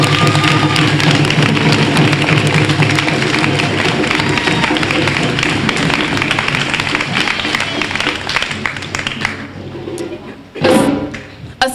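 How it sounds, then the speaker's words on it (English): Sustained round of applause from a graduation audience, dense clapping and cheering that holds loud for around ten seconds, then thins, with a brief final burst before fading. "Let us give them a round of applause."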